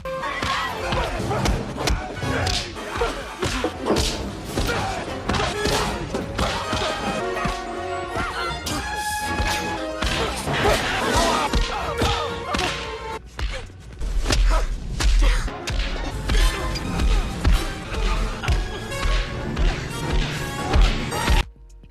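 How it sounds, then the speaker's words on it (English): Classic LucasArts Indiana Jones-style punch effects land in a busy action movie scene, with sharp thwacks and whip-like cracks. Crashes, whooshes and crowd battle cries play over a loud, continuous score. "the Indiana Jones punch sound effect in other movies that he's done"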